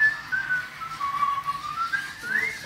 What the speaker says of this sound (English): He's got some sweet whistling skills